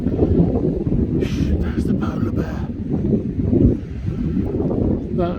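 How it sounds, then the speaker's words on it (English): Strong wind buffets the microphone on a coastal headland at Hengistbury Head, with a steady, loud low-frequency roar and gusty rumble from start to finish. Faint background sounds sit under it. "So the wind is actually quite strong at the moment"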